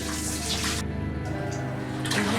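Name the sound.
water poured with a scoop to flush toilet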